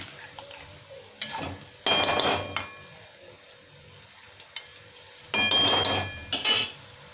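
A lid clatters onto a pot of Nepali-style aloo dum, with two distinct bursts of metallic clinking and scraping a few seconds apart against a quiet kitchen background.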